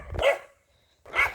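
A dog barks twice, close and loud, with a short silent gap between the two sharp barks and no talking over them.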